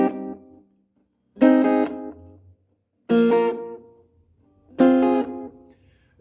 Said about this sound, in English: It's basically a double strum.